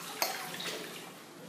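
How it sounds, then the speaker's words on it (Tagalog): Water sprinkled onto a floor while mopping, a brief splash followed by a steady wet hiss and spatter at close range, fading slightly. "Nagpipisik siya ng tubig ayun."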